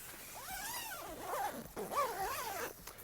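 A tent's inner door zips are pulled closed in two long, scratchy sweeps, each rising and falling in pitch. The zipping is close and clear, with no talk.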